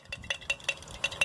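Homemade yeast mixture being stirred with lukewarm water in a small container, a quick run of close, light clinking strokes repeating at a steady rhythm, with no talking.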